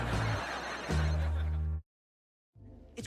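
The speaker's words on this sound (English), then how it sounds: "It's my phone. Who's calling me?" A mobile phone rings with a repeating electronic ringtone, breaks off briefly into silence, then starts ringing again.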